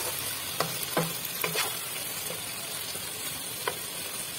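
Bitter gourd and onions fry in a pan, giving a steady close sizzle broken by a handful of spatula scrapes and taps.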